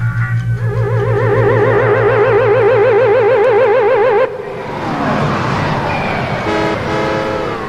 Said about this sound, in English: here comes a car